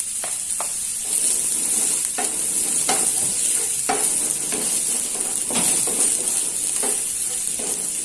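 Shallots, garlic and chili sautéing in hot oil, a continuous close sizzle broken by repeated spatula scrapes and stirring knocks, with no talk.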